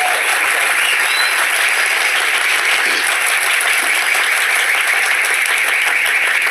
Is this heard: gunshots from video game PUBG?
no